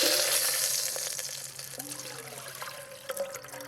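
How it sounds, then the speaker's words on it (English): Water is slowly poured into a hot soup pot over caramelized bacon and onions, sizzling and splashing as it deglazes the bottom, with gurgling and bubbling steadily throughout at close range. "Now slowly add your water."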